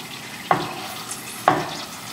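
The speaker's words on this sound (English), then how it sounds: "carefully flip the noodles and let them cook for another minute" Miso cacio e pepe noodles frying in a pan, a soft steady sizzle broken by two sharp scraping flips about a second apart, close and moderately loud.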